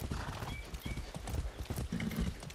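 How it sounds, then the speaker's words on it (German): Horse hooves clip-clopping in Far Cry 6 on PS5 while riding, with a steady rapid beat of thuds, a whinny as the horse rears, and someone speaking over it. "Das Pferd bäumt sich hier auf."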